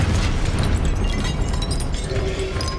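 A Confringo blasting spell explodes in Hogwarts Legacy. It gives a dense, continuous roar of blasts and crackling impacts that stays loud throughout.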